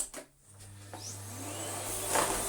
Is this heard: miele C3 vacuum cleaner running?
yes